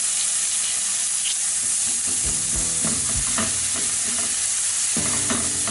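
Curry leaves, cumin, ginger and green chili sautéing in hot oil, a loud, steady sizzle broken by several metallic spoon clinks and stirring scrapes against the pan, no talking.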